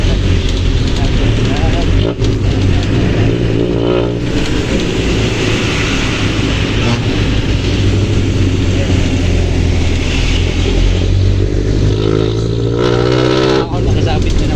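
A jeepney engine roars loudly while a passenger rides hanging on the back in rainy weather, with traffic rumbling and a horn around it, as a person talks over the din throughout.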